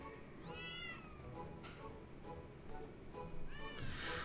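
Kittens meowing in the video game Final Fantasy XIV, several thin rising and falling mews spaced over a few seconds against a soft steady game background, a voice faintly present underneath.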